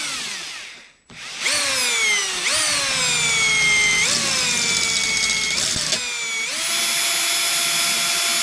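An electric drill fitted with a 3.5mm bit bores into the metal exhaust of a Briggs and Stratton 10hp engine, whining loudly with pitch that dips and recovers in several bursts under load, starting after a brief pause.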